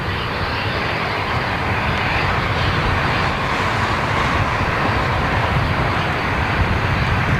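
A Boeing 747 climbing out after takeoff, a loud, steady broadband engine roar with deep rumble that holds throughout, with no voices.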